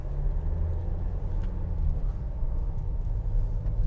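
A 2016 Vauxhall Vivaro 1.6 CDTi ecoFLEX van drives along with a steady low diesel engine rumble and road noise from inside the cab, continuous and without speech.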